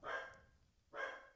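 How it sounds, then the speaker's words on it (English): A corgi barks twice, two short, fairly close barks separated by a brief pause, with no voices. "Excuse my corgi barking in the background."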